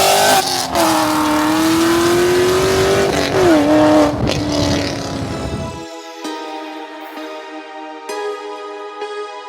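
A 6th Gen Camaro SS and a 5th Gen Chevrolet Camaro ZL1 being driven: a loud, close engine note rises and swells for about six seconds, then gives way to a quieter, thinner tonal sound.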